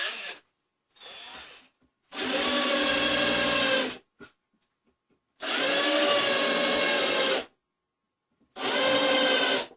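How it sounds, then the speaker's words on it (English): A power auger bores out the inside of a wooden treasure box in three long, loud, steady bursts with short gaps between, plus a couple of brief starts at the beginning. "go ahead and auger this out while we're here"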